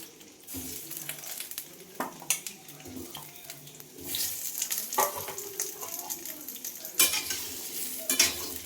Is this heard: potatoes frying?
yes